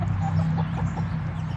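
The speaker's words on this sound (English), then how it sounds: "here are the chickens" Backyard homestead chickens clucking close by, a run of short, repeated clucks and low murmurs over a steady background, with no voices.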